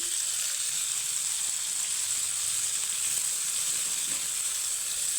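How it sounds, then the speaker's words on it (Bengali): Curry leaves sizzling in hot oil, a steady, dense crackling hiss held at an even level throughout, close and unbroken. "হালকা একটু ভেজে নেব এখন দিয়ে দিব কিছুটা কারি পাতা"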